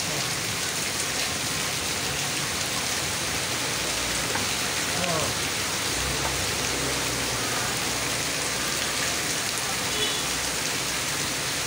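Heavy rain pours steadily for the whole stretch, a dense, even hiss of drops on surfaces near a truck, with faint voices now and then beneath it.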